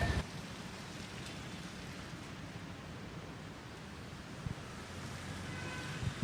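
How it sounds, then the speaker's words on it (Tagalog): Light rain falls steadily over a flooded street, a soft even patter and wash of water that stays faint and continuous, with a few dull knocks in the background. "yung mahinang pag-ulan na lamang yung nararanasan natin"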